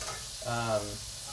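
A short burst of frying sizzle, a hot bubbling crackle of oil two to three inches deep in a Dutch oven that swells briefly and fades, heard close and fairly quiet.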